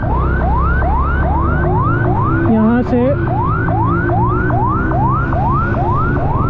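An ambulance siren wails on a busy road, its rising sweep repeating about every half second, loud and near over engine rumble, with a short horn-like break midway and a brief spoken remark.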